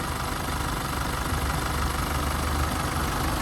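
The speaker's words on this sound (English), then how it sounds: "That's the engine." Engine of a 2018 Holden Colorado Z71 double-cab ute idling, a steady dense rumble with a faint knocking texture, close and continuous with no voices.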